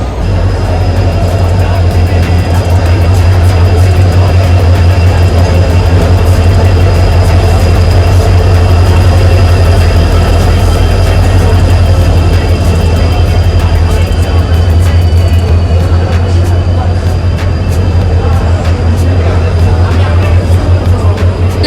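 Steady loud rumble of a train in motion, heard from inside a railway carriage while travelling with heavy luggage, continuous low drone with faint rail clatter throughout and no clear talk.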